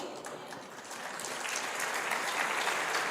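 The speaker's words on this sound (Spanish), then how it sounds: "Ese aplauso como que dolió." A church congregation breaks into applause, a dense wash of clapping that swells and holds strong, moderately close, with no speech on top.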